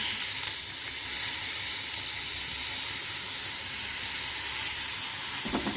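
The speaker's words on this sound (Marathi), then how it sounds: "आता यात टोमॅटो घालायचा." Tomato dropped into a pan of softened onions sizzles with a steady, close frying hiss while cooking bitter gourd bhaji, with a brief rise at the end.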